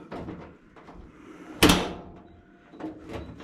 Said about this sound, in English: So it shuts good with the door.